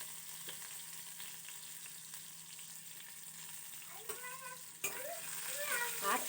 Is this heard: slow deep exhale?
no